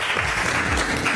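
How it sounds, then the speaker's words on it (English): A burst of clapping from an audience after a presentation at an innovation event, dense and steady throughout, fairly close and loud. "Big applause for Zara."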